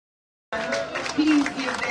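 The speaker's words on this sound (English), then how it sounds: "Please give them a round of applause" Audience applause at a reggae festival launch honoring guests from Jamaica and the Caribbean, breaking out suddenly and holding as dense, steady clapping mixed with crowd voices.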